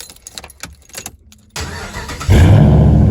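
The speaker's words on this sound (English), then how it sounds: "Now all we gotta do is start the truck up." A truck engine cranks and catches after an oil change, starting with scattered clicks and handling noise before a quick crank, then settling into a loud, steady idle close by.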